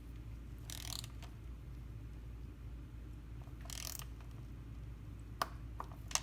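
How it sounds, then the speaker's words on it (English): Torque wrench tightening the lock nuts on a Porsche 911 964 chain tensioner. Two brief ratcheting bursts and a couple of sharp clicks stand over a low steady hum, close and quiet. "I'm going to torque them now."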